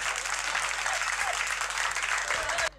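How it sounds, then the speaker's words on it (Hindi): Loud, dense applause from an audience at a Haryanvi poetry recital, steady for over two seconds before cutting off abruptly near the end. "एक बार तालियां बजा दो जरा जोरदार"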